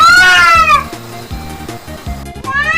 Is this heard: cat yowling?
yes